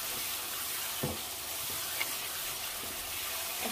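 A masala of spices and tomatoes fries in oil in a pan, a constant hissing sizzle with a few faint spatula knocks, close and steady.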